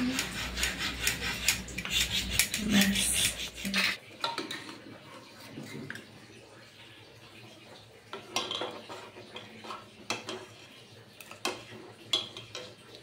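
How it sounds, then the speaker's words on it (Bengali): Sandalwood is rubbed against a stone with dew to make paste, producing steady rasping, scraping strokes that are loud at first and then softer and more intermittent, with occasional knocks. "এই শিশিরটা দিয়ে এখন চন্দনটা ঘষে নেবো"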